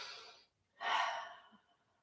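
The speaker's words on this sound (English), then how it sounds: "Breathe." A single deep breath during a yoga flow, a short soft exhale followed by a fuller, louder breath, close and alone.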